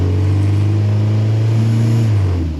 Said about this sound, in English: Let's keep giving it some gas.